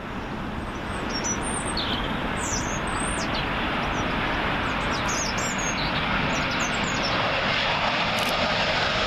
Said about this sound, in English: Gonna get started with a Virgin A350. It's coming from JFK